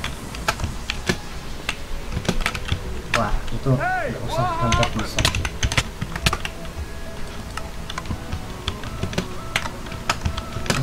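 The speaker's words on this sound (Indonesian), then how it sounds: "keyboard saya kedengeran banget" Rapid computer keyboard typing and clicking throughout a Minecraft parkour session, loud and close, with someone talking over it.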